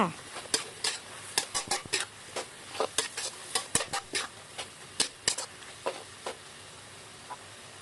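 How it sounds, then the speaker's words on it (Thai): A spoon or spatula scrapes and clatters rhythmically in a pan as sauce ingredients for wide stir-fried noodles are stir-fried, with repeated close sharp strokes over a faint sizzle. "จากนั้นก็ผัดต่อค่ะ ผัดไปจนกว่าส่วนผสมจะเข้ากันค่ะ"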